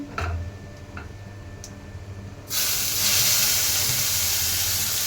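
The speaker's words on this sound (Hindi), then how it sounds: "मसाला को बढ़िया से फ्राई कर लेंगे, जब तक पैन में से तेल न छूटे तब तक भूनते रहेंगे" A ground paste of tomato, onion and garlic drops into hot oil in a pan and bursts into a loud, steady sizzling hiss, after quieter ticking and faint crackling from the cooking whole spices.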